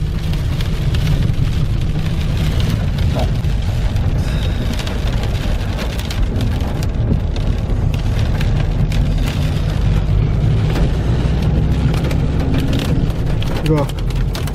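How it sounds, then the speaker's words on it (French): Small hail patters densely and constantly over a steady low thunderstorm rumble, the fall holding an even intensity throughout, in about 9°C air. "il y a un peu de la grêle là. La petite grêle."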